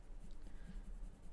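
A Prismacolor Premier colored pencil in Mahogany Red is stroked across paper in soft, close scratchy passes that blend the color while coloring pink hair.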